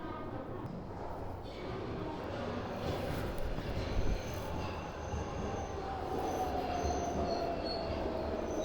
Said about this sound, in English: Well, this is my train coming.